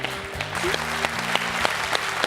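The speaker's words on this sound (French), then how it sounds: "Très applaudi par toute la salle ici, à la maison." A studio audience at a French TV quiz show applauds a contestant's win. The clapping is steady and moderately loud from a crowd, with sustained musical tones playing underneath.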